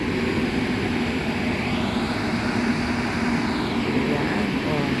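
An automatic car wash machine blows water off a car with a steady, loud, roaring rush of air that holds constant throughout.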